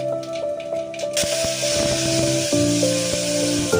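Mustard seeds, cumin, onion and tomato hitting hot oil in a pan, a loud hissing sizzle that swells after a moment and holds steady, with tonal music playing underneath.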